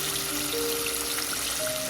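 Fish frying in hot oil gives a steady, dense crackling sizzle at close range, loud and unbroken, with no voices.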